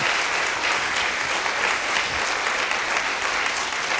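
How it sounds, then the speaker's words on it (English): An audience at a Republic Day celebration on a health campus claps in a dense, sustained round of applause, steady and even throughout without voices. "So you need to give him a round of applause for that."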